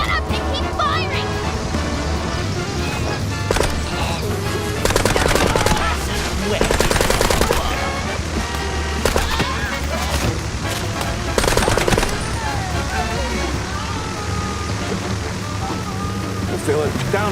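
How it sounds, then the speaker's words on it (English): Rapid bursts of automatic gunfire rattle repeatedly in the Mouse P.I. for Hire video game, loud and close over a busy layered soundtrack, with voices speaking in between volleys. "Just shut up and keep firing!"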